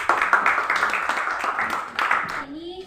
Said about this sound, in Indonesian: Silakan kasih aplaus untuk temannya.